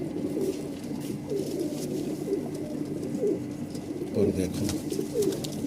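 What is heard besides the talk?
Madrasi pigeons cooing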